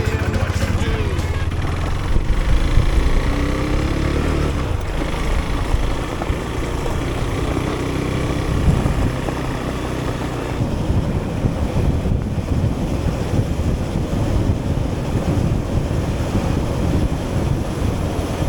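Motorcycle on the move with a steady low engine drone buried under constant loud wind buffeting across the microphone, continuous and close throughout with no pauses.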